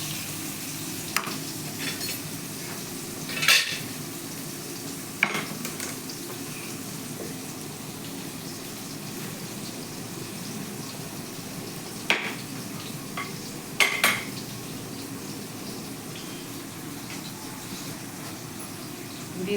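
Soya chunks fry in a pan while a utensil stirs them now and then, a quiet steady sizzle broken by a few sharp scrapes and clinks of metal.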